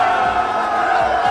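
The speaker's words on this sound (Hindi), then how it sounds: "जोरदार तालियों से स्वागत करें" An audience at a mushaira, a poetry gathering held at the Taj Mahal, welcomes a poet with a steady, dense wash of applause and crowd noise that stays loud and unbroken throughout.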